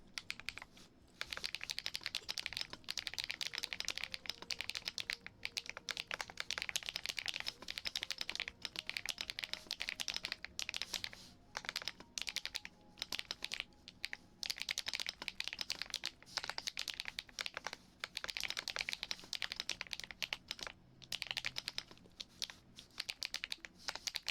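Rapid computer keyboard typing in bursts of clicky keystrokes with short pauses, close and fairly quiet, continuing steadily with no talking.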